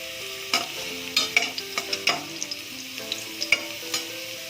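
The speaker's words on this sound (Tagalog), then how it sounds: "pag mainit na, yung garlic naman yung lalagay natin." Garlic fries in hot oil in a pan under a soft sizzle, while a utensil stirs it with repeated metallic scrapes and clinks against the pan.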